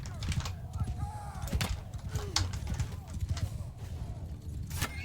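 Cavalry horses charge at a gallop in the medieval battle game Bannerlord, a steady thudding clip-clop of many hooves with creaks and scattered battle noise, heard over a continuous din.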